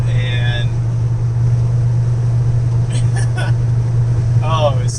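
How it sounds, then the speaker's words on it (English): A car engine with a custom welded exhaust hums as a loud steady low drone while driving, with a short burst of talking over it. "I only hear like the engine noise coming from the front"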